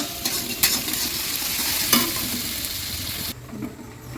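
Onions fry in a pan with a steady close sizzle while a utensil stirs and scrapes through them, with a couple of sharper clinks, before the sizzle drops away near the end.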